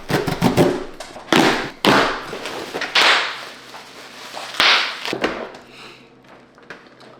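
A package is opened by hand: a series of loud taps, thumps and rustling tears with short bursts of cardboard and plastic handling, close to the mic, with no talk.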